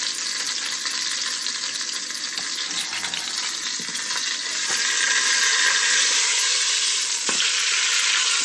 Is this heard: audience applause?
no